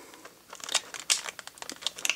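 Scissors cut into the stiff plastic packaging of JVC headphones, producing close, fairly quiet crinkling with sharp snips and cracks in an irregular run, without any talking.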